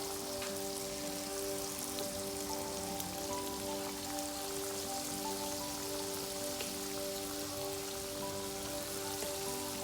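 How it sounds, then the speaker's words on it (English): Ginger garlic chili paste sautéing in hot oil in a pan gives a steady, dense crackling sizzle with a faint tonal hum underneath, even and unbroken throughout. "and saute it well."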